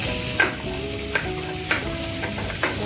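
Pomfret fish fry in hot oil, producing a close, steady sizzle broken by about four sharp spatula clinks at roughly even intervals.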